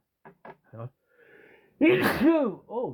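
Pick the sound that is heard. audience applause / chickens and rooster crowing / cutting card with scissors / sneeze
sneeze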